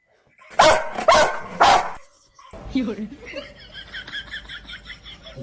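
Three loud, sharp dog barks in quick succession, followed by a quieter stretch of chatter and faint sounds of people nearby.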